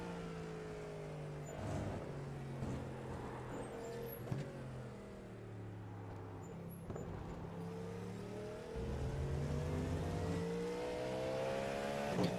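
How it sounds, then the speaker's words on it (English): A race car engine from iRacing at Le Mans, France revs and shifts through gears, rising and falling whine with gear changes, steady and fairly faint without talk. "I figure I guess y'all want to hear the car"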